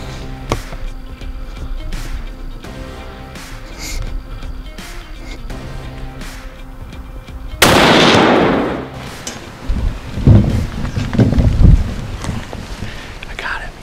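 A single loud rifle shot fired at a buck during a late-season deer hunt bursts out mid-clip and fades over a second, amid wind rustle and quiet, low voices before and after.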